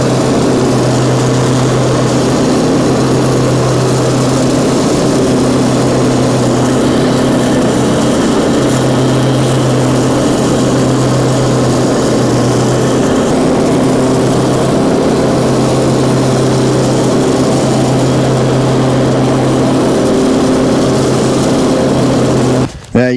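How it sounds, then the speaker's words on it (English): A lawn mower fitted with a grass bagger runs steadily and loudly, a continuous close engine drone with a tonal hum that stays constant throughout as it cuts grass along a landscape border. "the mower doesn't quite catch all this around the edge"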